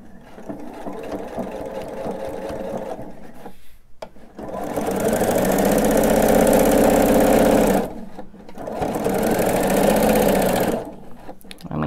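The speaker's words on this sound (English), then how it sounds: "I'm going to start in the middle of one side, and I'm going to sew this on with a quarter inch seam" A sewing machine stitching a quilted pillow top to its backing, running in long steady bursts of fast whirring with short pauses between, close and loud.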